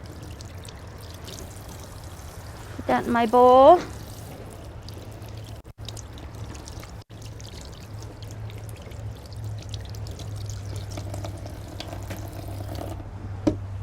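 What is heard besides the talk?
water running from a kitchen faucet while rinsing fish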